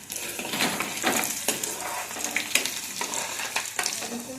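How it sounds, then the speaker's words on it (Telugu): Curry leaves crackle and sizzle in hot oil for tomato chutney, a steady frying hiss broken by sharp pops and stirring scrapes, close and fairly loud with no talking. "కరివేపాకు వేస్తున్నా మామూలుగా వేసేస్తున్నాను అంతే"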